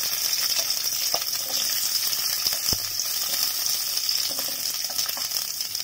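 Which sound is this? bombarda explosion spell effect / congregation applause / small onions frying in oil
small onions frying in oil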